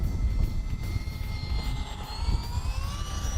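A Freewing Seagull 1400mm foam RC airplane, in electric ducted-fan or propeller form, passes by with a steady motor whine that slowly rises in pitch, set against a constant rush of wind noise.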